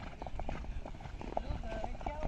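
Soft, rhythmic hoofbeats of a desi mare cantering during show-jumping training, heard in quick repeating beats at moderate distance beneath a voice calling out instructions.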